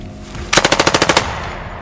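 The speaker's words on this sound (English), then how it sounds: "except for occasional machine gun fire" A single rapid burst of about ten machine gun shots rings out loud and sharp during a special forces selection exercise, followed by a fading echo and then quiet.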